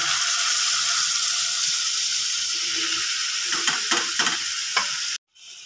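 Potatoes and capsicum fry in a pan with a spice paste ground with sour curd, a loud steady sizzle with a few scraping stirs near the end before it cuts off.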